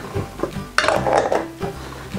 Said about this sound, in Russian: Теперь закрываем крышкой